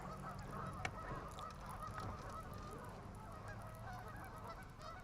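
A flock of geese honks continuously near the water during a bass fishing outing, forming a dense, steady chorus that carries on for several seconds in the background without a pause.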